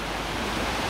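Steady, loud broadband wash of sea waves breaking on a sandy beach in Dubai, a continuous surf roar with no voices.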